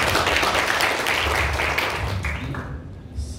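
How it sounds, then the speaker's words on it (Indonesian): At the close of an Indonesian talk on marriage, the audience applauds the speaker, with fairly loud clapping that fades toward the end. "Tepuk tangan dulu untuk Ustadz Ahmad Rosyadi."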